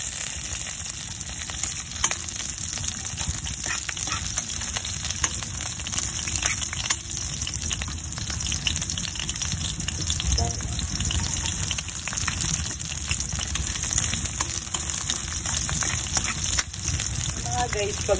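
Ginger and onion sautéing in a pan, a steady close hiss and crackle of frying oil running throughout, with occasional scrapes and a voice talking now and then over it.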